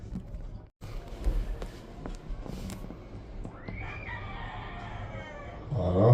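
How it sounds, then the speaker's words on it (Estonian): Roosters crowing from a residential hillside neighborhood in Medellín, Colombia, a drawn-out crow rising partway through over steady outdoor ambience and footsteps, moderately distant, with a louder burst of noise at the end. "Kuked kirevad."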